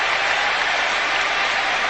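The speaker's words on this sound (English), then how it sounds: "Claps of encouragement as Merceron goes long and kicks magnificently" Steady applause from a stadium crowd at a France vs Ireland Six Nations rugby match in 2000, encouraging a kicker lining up from the touchline; dense, even clapping holds throughout without pause or cheering.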